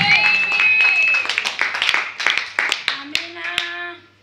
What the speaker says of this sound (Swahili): Mpigie makofi Bwana Yesu.